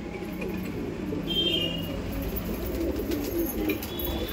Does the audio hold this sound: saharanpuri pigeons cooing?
yes